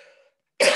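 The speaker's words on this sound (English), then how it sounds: "I'm gonna cough," A single short, sharp cough bursts out close and loud from an adult getting over a cold, following a faint trailing tone and a brief silence.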